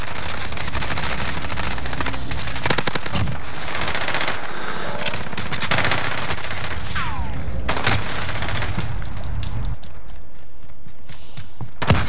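Light machine gun fire from the video game Call of Duty: Modern Warfare comes in long rapid bursts and fusillades, loud and close, with brief pauses and scattered in-game effects between volleys.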